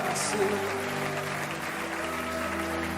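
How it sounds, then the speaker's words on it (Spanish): Steady applause from a church congregation during a worship service fills the space, with a sustained musical tone or hum underneath throughout. "Recibe todo aplauso de tus hijos en este día"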